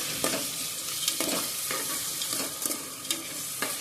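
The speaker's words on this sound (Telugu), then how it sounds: "సన్నగా తరుకున్న ఉల్లిగడ్డలు ఇప్పుడు వీటిని కలిపేసుకోవాలండి" Finely chopped onions with green chillies being stirred in a frying pan for a Telangana-style goat head curry, a steady sizzle broken by repeated scraping strokes of the spoon, close and fairly quiet, with no voices.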